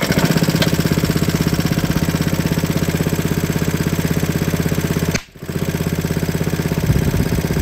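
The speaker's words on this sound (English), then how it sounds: "I can fire it up with the pure hydrogen gas" Hydrogen-fuelled small engine mounted in a go-kart frame runs at a steady idle, its rapid regular firing pulses loud and close, with a brief dip and cough about two-thirds through before it picks back up.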